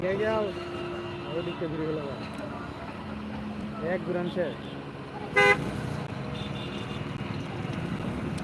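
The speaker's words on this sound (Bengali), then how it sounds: "স্পিড বোট আমাদের কাছে এসে পড়েছে" A speedboat runs near the shore at Madarganj, its engine a low steady drone under frequent talk, with a couple of horn-like toots rising over the mix partway through.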